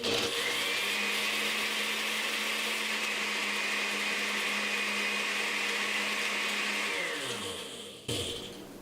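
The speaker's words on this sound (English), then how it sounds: "So add that and hit your blender again." A blender runs loudly and steadily for about seven seconds, grinding ice with gelatin for a lime Jello dessert, then winds down and stops with a brief clatter.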